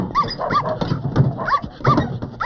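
A furry dog gives a run of short, close barks and yips mixed with whining whimpers, in repeated uneven bursts.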